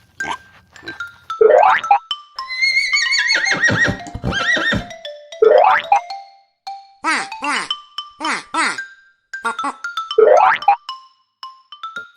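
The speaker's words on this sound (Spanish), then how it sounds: "¿Cómo hace el caballo," Cartoon-style horse neighing and whinnying sound effects from a children's farm-animal video, several loud, close whinnies with pitch-swept calls and a springy boing in between.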